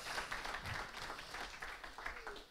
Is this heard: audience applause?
yes